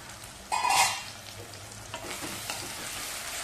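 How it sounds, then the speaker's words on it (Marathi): Tomatoes softening in a pan for aloo methi are stirred, a brief scraping swirl of the spoon rising over a soft, steady sizzle of frying that carries on quietly afterward. "चांगलं हलवून घेऊया"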